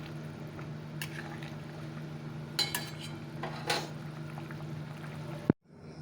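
Rice being served in a kitchen, with a few light clinks and scrapes of a metal utensil against a pot over a steady low simmering hum, ending in an abrupt cut to near silence.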